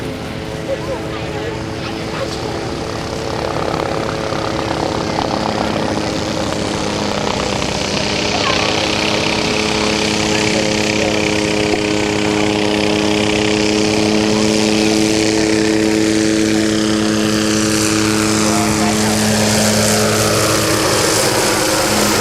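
A Hughes 369 (Hughes 500) helicopter with a four-bladed, fully articulated rotor climbs at the Rotorfest air show, its engine drone loud and steady with tonal whine while an announcer talks over it.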